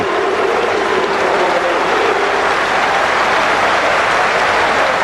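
Cricket crowd at Lord's applauding Collingwood's fifty in an England–Australia one-day international, a dense, continuous roar of clapping from a large stadium audience, steady and loud throughout.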